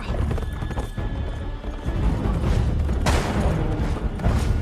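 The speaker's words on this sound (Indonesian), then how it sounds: "Eden mencuri kuda sang jenderal dan segera kabur dari tempat tersebut." A horse gallops with heavy hoofbeats and neighs loudly in a dramatic film chase scene, the pounding continuous and mixed with bursts of noise that could be gunfire.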